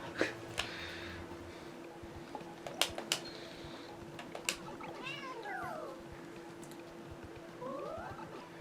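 A house cat meows indoors beside someone playing a video game at a computer, two or three rising, drawn-out calls among scattered soft clicks and thumps, quiet and fairly close.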